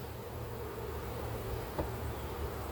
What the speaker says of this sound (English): Okay, I got bees over here on the side